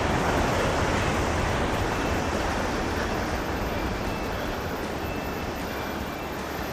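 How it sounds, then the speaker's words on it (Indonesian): Strong surf pounds at Pangasan beach as a dense, continuous roar of breaking waves, loud and unbroken, with no voices. "Ombaknya deres, suaranya sampai kedengeran ya"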